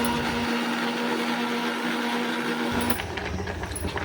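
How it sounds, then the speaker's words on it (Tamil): Electric blender grinding onion, coconut and tomato, a loud steady whirring drone that runs continuously, its motor pitch shifting slightly near the end. "அரைச்சிட்டு வந்துடலாமா? வெங்காயம், தேங்காய்ச்சல், தக்காளி, அவ்வளோதான். இதை அரைச்சிட்டு வந்துட்டு பார்க்கலாம்"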